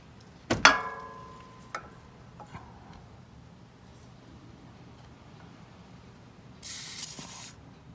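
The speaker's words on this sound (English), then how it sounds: "spray the stuff down with a PB blaster" A sharp metallic clank and a few light taps, then after a quiet pause a short, close hiss of PB Blaster penetrating oil spray lasting about a second, applied to coilover suspension parts.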